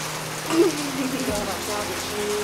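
Rain patters steadily in the background while people talk over it.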